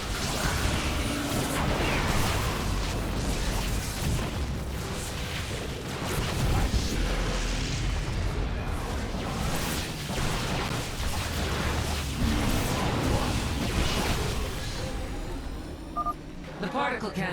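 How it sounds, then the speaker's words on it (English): Particle cannons exploding in a sci-fi video game: dense crashing blasts and rumbling booms over a loud battle soundscape, continuous and heavy, with no pauses. "The particle cannons have been destroyed"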